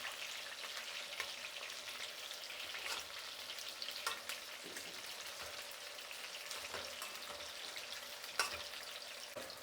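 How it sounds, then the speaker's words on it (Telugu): Stuffed brinjals (gutti vankaya) being stirred and fried in a pan, giving a steady close sizzle with scattered scraping clicks and spatula taps throughout, no voices. "ఇలా కలుపుతూ వేయించుకోవాలండి, అలానే వదిలేయకూడదు."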